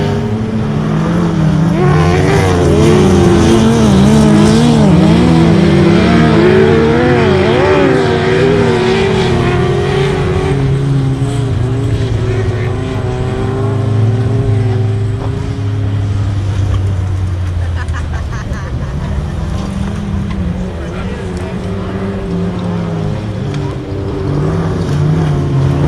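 Autograss race cars in Scotland roar continuously around a bumpy dirt track, several engines overlapping loud and near, their pitch rising and falling as they pound over the bumps.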